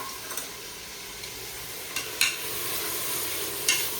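Tomatoes and ginger garlic paste fry in a hot pan with a steady close sizzle, while a stirring utensil scrapes and clicks against the pan a few times.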